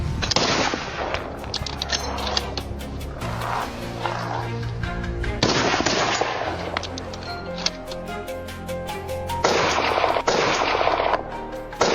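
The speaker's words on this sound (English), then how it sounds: "In a split second, the shot stopped the escape attempt." Rifle shots ring out during a wild boar hunt on farmland among dry crops, several sharp loud cracks spaced across the stretch, each with a ringing tail, mixed with a mechanical background drone.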